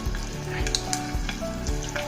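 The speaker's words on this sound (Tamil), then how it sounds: "முழுசாக வந்துட்டு நல்லா ஃப்ரை பண்ணி எடுத்துக்கோங்க." Whole eggs fry in a pan with paneer and capsicum for a thokku, a steady close sizzle with occasional light stirring clicks and pops, no talking.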